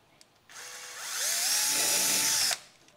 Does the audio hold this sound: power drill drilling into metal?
yes